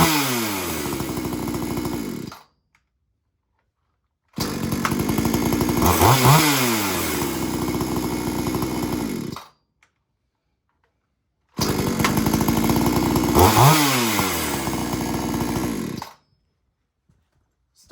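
A chainsaw cold-started for the new season runs in three loud bursts of several seconds each, revving up and down, with short silences between the runs.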